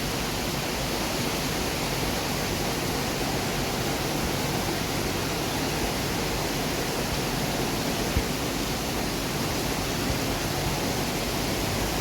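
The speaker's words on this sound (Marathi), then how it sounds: "तुम्ही खाली पण पाहू शकता, व्हिडिओमध्ये दिसतच असेल केवढा मोठा पाऊस चालू आहे तो" Heavy rain pours steadily over a city in Singapore, making a dense, even, continuous hiss. Nothing else stands out above it.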